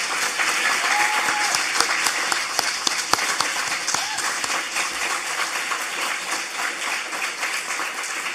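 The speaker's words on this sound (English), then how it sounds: "can we please give a round of applause for a true champion of education, diversity, and social justice, Profe Laura Gómez." Sustained, loud applause from an academic audience honoring a retiring law professor at a career celebration, dense steady clapping throughout with no talk over it.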